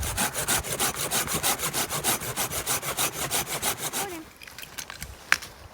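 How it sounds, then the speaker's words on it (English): A hand saw cuts firewood outdoors in winter during bushcraft fire building, a steady rhythmic back-and-forth rasping of close, loud strokes that stops partway through, leaving quieter rustling and a single sharp knock. "He's going and processing some firewood with the saw."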